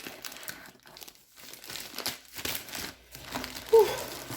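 Crinkling, tearing plastic as a packet of peanut butter powder is pulled open, several bursts of crumpling with short pauses between, close by and fairly loud.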